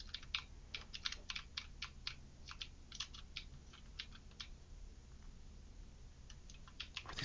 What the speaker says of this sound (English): That's my brother's mouse and keyboard.